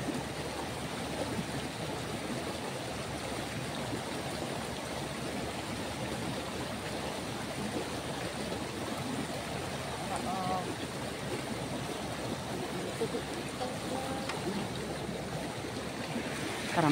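A strong stream rushes steadily and loudly throughout, a dense continuous wash of water noise with no break.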